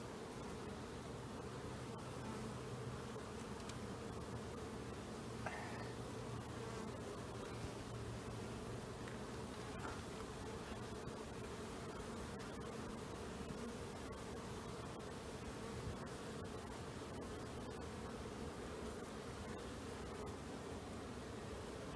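Honeybees hum in a steady, low drone around an open hive as heavy frames are lifted out during an inspection, a faint but continuous buzz with no voices over it.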